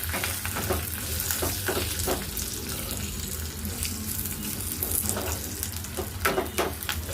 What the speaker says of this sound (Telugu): మీరు తాలింపు చేసేటప్పుడు కరివేపాకు వేసినప్పుడు ఇలా గరిటె పెట్టేస్తే ఆయిల్ అనేది మన మీదకి రాదు